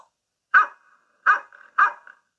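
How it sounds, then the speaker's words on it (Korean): A dog barks loudly three times in an even rhythm, each bark a sharp, close burst followed by a short trailing whine, with silence between. "뒤따라오던 파트라시가 갑자기 큰 소리로 짖으며 눈을 파기 시작했어요"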